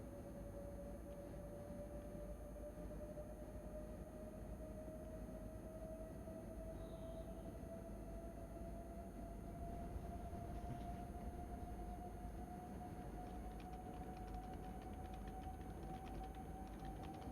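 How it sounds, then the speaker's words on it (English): A steady low rumble with a rising whine that slowly climbs in pitch, a simulated BR186 electric locomotive hauling a heavy freight train gaining speed, continuous and unchanging in loudness. "just let the train accelerate."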